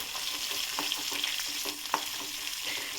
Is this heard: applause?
no